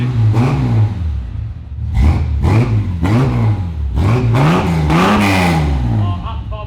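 A motorcycle engine on Nathan's new XG streeter revs repeatedly in loud, rising bursts with a raspy, heavy tone, blips climbing and falling one after another close by, with people talking over it.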